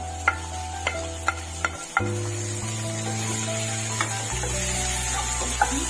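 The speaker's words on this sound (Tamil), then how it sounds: "இப்போ கட் பண்ணி வச்சிருக்கிற தக்காளி அதை சேர்த்துக்கலாம்" Chopped tomatoes are stirred into sautéed onions in a pan for Bombay-style bhaji, with a steady sizzle, a low hum, and a series of sharp spoon taps and scrapes, several evenly spaced early on and a few more later.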